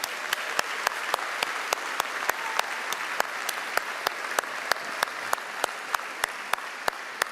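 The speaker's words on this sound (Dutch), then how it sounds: "Dus applaus voor Daan en Bokke graag" Audience at a stallion show applauds a rider and horse in a large hall, a dense, even wash of many hands clapping with a steady rhythmic beat running through it, no talk.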